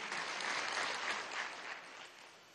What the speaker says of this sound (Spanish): Mira cómo la aplauden sus alcaldes, ¿vale?